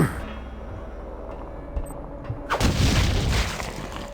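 Eggs being destroyed in System Shock 2, heard as a sharp thump near 1.8 seconds followed by a louder, broader burst of crunching, booming noise that swells and then fades over the last second and a half.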